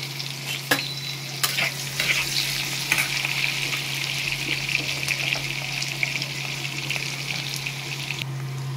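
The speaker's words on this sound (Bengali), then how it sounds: "পেঁয়াজ আলুটা একটু ভাজা ভাজা করে নেব" Onion and potato frying in hot oil in a home kitchen, a steady close sizzle with occasional stirring scrapes and clinks, no voices.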